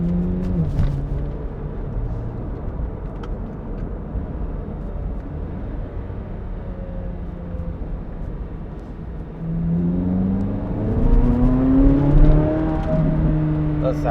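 A Corvette Z06 engine drives with a steady low drone that rises into a louder, revving pull near the end, with a faint voice now and then.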